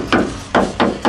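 A small hammer strikes a part on a Nissan Navara or Mitsubishi L200 pickup during a used-car inspection, four sharp, loud metallic knocks spaced unevenly, close by with no talking.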